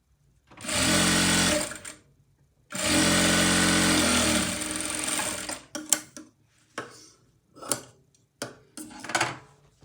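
Sewing machine stitching a folded lining strip for a katori blouse, two long steady runs of whirring stitches near and loud, followed by short bursts and clicks of handling.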